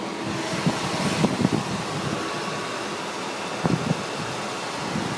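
A 2004 Dodge Ram Quad 5.7 4x4 SLT pickup idles nearby with a steady, fan-like hum and a few faint ticks and clicks over the constant drone.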